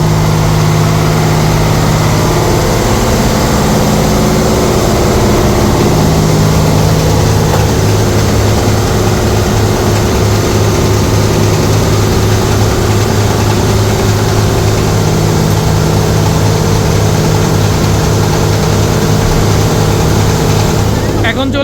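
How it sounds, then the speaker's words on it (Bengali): The engine room of a passenger launch on the Barishal route rumbles with a loud, steady, close diesel drone that does not let up. "আর এটা হলো লঞ্চের ইঞ্জিন রুম"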